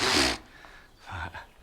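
A single loud, sharp sneeze bursts out up close at the start, followed by quieter breathing and a short spoken reply.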